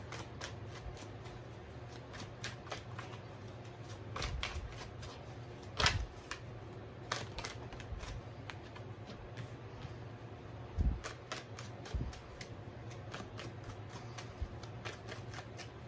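Tarot cards are shuffled again and again at close range, a run of quick papery riffles and flicks with occasional sharper slaps as the deck is squared, no voices over it.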